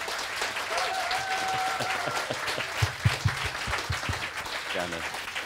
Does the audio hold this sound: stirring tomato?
no